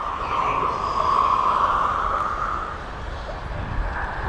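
An Atlas Air aircraft at East Midlands Airport produces a steady, distant engine roar that swells slightly and then eases, with no voices over it.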